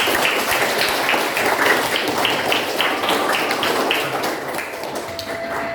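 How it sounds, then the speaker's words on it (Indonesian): A class of junior high students in Indonesia clapping together, a fairly close, brisk patter of hands that fills the room and tapers slightly toward the end, with no one speaking over it. "Tepuk tangan untuk kita semua."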